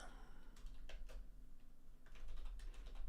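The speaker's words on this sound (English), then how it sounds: "Perhaps I'll type that in." Several quiet bursts of computer keyboard typing, a few quick clusters of key clicks spread across a few seconds under a steady low background hum.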